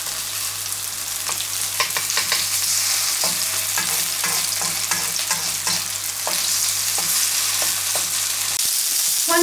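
Chinese meatballs fry steadily in a pan, giving a continuous close sizzle broken by scattered crackles and spits, with a low steady hum beneath and no talking.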